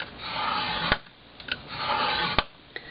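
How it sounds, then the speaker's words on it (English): A scoring tool is drawn along sturdy cardstock in two rubbing strokes, each ending with a sharp tap or click, close and quiet with small clicks between. "I'm going to come over here at my 1/2 inch and score again"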